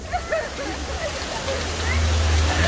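Water rushes steadily with a low roar that swells toward the end, while voices call out faintly over it.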